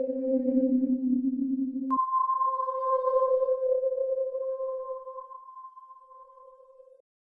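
A Phase Plant synth plays a wavetable just imported from a vocal sample, holding a low buzzy tone that jumps to a higher sustained pitch about two seconds in, then fades out by seven seconds, alone with no talking.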